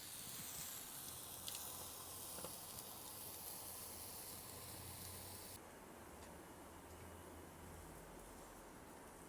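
Coffee-smoked beef skirt steak sizzles on a hot grill with a steady, close hiss, softening slightly partway through, with no voices.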